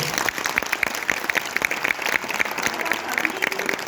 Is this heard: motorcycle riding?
no